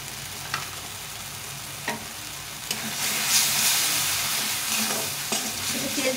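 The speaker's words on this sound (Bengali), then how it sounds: "এটা ভালো করে কষিয়ে নেব" Spice masala sizzles and fries in a pan while being sautéed and stirred for cauliflower and chhana dalna, a steady hiss with a few soft scraping stir strokes, close and moderately loud with no talk.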